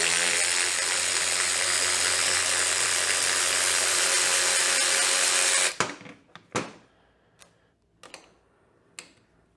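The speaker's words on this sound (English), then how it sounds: "Listen to that ratchet go now." A power ratchet spinning hard while rear axle parts are removed, a loud continuous whirring buzz for several seconds that cuts off abruptly, followed by a handful of sharp metallic clicks and knocks.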